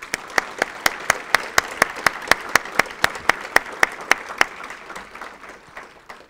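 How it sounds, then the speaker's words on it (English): Audience applause for a program's sponsors at a community assessment report event: a steady wash of clapping with a few sharp, loud claps standing out in an even rhythm, thinning out toward the end. "I'd like to give them a big round of applause."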